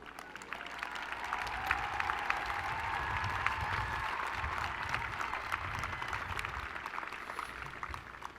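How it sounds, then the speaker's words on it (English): A large crowd at a university fall commencement applauds doctoral degree candidates, with sustained, even clapping filling a big hall at moderate distance, and a faint murmur of voices underneath. "let's give them a round of applause."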